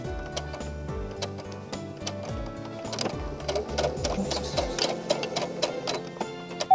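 A domestic sewing machine stitches fabric for a handmade face mask, a steady rapid ticking run of needle strokes with a low mechanical hum, close and continuous, with no talking.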